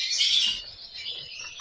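A competition songbird chirps as it is picked up by hand: a bright burst of high chirping at the start, then softer, scattered calls over faint handling noise, with no talk.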